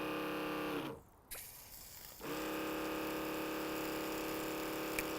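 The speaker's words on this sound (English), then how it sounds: "I just run a bit of fluid through the machine first." Biowash machine pumping fluid through its lines to build pressure, giving a steady mechanical hum that drops off briefly and then resumes, even and continuous at moderate level.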